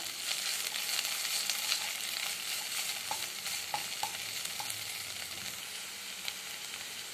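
Cabbage, green chilli and ginger garlic paste sizzle steadily in a hot pan for veg gobi manchurian, with continuous frying crackle and occasional stirring scrapes, close by and without talk.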